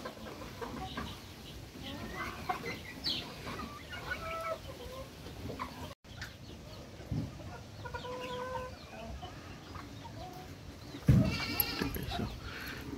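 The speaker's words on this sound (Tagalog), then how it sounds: "Mga manok." Chickens cluck on a small farm where goats are also kept, with scattered soft calls among quiet ambience and a louder burst near the end; a person talks faintly at times.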